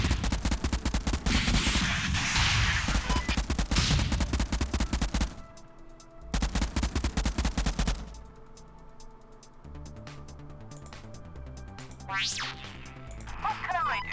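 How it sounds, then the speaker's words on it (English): Automatic gunfire aimed at enemy vehicles in the Convoy video game rattles in long, loud bursts, breaks off for a moment, then returns before giving way to softer game sounds. "Shooting the enemy."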